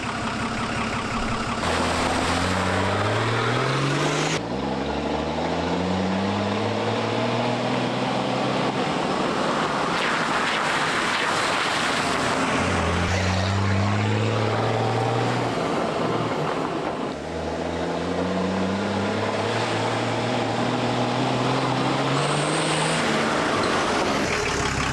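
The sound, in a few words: Nissan Patrol 4x4 driving on the road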